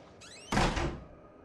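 A door closes in the horror game Outlast: a brief squeaky scrape followed by a solid, heavy thunk that rings out and fades quickly, close and loud.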